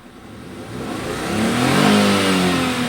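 A 2017 Nissan Almera engine with a misfire revs up steadily, its pitch rising to a sustained high-rpm whine, loud and close with no talking.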